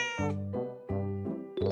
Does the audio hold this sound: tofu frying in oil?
no